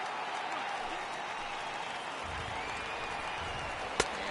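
Dense stadium crowd noise from MLB The Show 18, a steady wash of cheering and applause from a crowd of over 39,000 on its feet, holding constant throughout with one brief sharp accent near the end.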